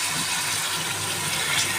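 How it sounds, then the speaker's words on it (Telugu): A cup of water pours into a pan of cooking cashew chicken masala, making a short, steady, close rushing splash that lasts throughout. "ఒక కప్పు నీళ్ళు వేసుకుందామండి."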